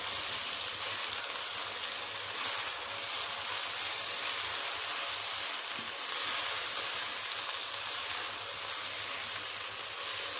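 Masala bhindi (okra) sizzles and fries steadily in a pan while being stirred, a continuous loud crackle and hiss with no talking.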